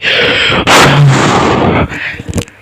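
Gunfire from a car in GTA San Andreas, a loud, dense burst of blasting shots lasting under two seconds, followed by a few fading sharp pops.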